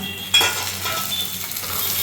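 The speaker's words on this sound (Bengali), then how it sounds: "পেঁয়াজটা আমার মোটামুটি ভাজা হয়ে গেছে দেখো লালও হয়ে গেছে আমি এখানে দিয়ে দিচ্ছি একটা মিডিয়াম সাইজের টমেটো কুচি" Chopped medium-sized tomato dropped into browned frying onions sets off a sudden burst of sizzling, which then settles into a steady, close crackle with faint stirring and no talking.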